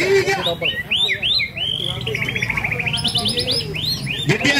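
White-rumped shamas singing at a bird song contest, with loud, close, varied whistled phrases, rapid trills and chirps layered over crowd murmur and background voices.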